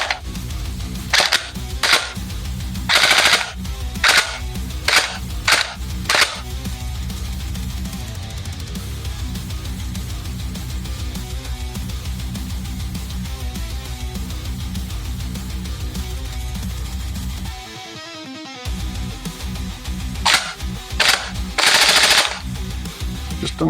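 A CosmoX Sirius gel blaster fires after a piston repair, giving bursts of sharp rapid cracks with a continuous motor whine running under them and a brief pause partway through.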